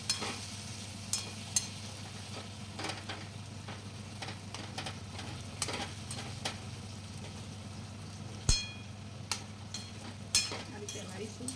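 Green chillies dropped into hot oil in a pan while preparing Gujarati patra, a steady faint sizzle with scattered clicks and stirring taps, a voice talking over it.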